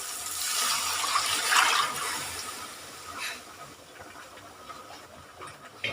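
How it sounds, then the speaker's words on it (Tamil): Curry gravy bubbling in a pan in a home kitchen while a Tamil seafood lunch is cooked, heard as a steady hissing, frothy simmer with soft bursts of bubbling, fairly quiet and close, without talk. "நம்ம குழம்பு நல்லா கொதிச்சிட்ருக்கு."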